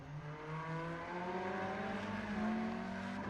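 GT3 race car engines in an iRacing race at Circuit of the Americas whine and rise in pitch as they accelerate, a steady droning pass at moderate distance with no talk.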